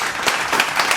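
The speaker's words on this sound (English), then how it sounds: "Round of applause" Clapping from a small group, a round of applause with a few distinct louder bursts, close and fairly loud, heard alone without talk.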